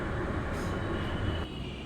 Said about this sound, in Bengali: এই যে মেট্রো থেকে নেমে পড়েছি, এটা দক্ষিণেশ্বর মেট্রো স্টেশন